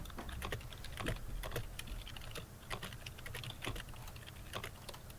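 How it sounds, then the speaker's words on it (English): Fast, steady keystrokes clatter on a computer keyboard, a dense run of close clicks that continues throughout at a moderate level. "That is a whole lot of typing."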